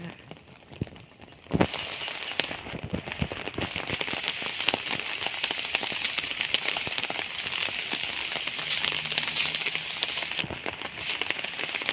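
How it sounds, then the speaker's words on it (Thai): Light rain falls outdoors beside a rice seedling field, a steady, even patter of drops with occasional crackles, heard alone without voices. "ฝนตกลินลินคะ"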